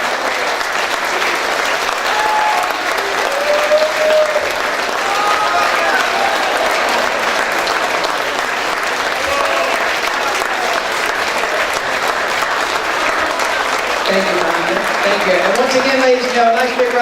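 An audience gives a loud, sustained round of applause for a string quartet. Dense clapping carries through the whole stretch, with a few voices rising faintly toward the end.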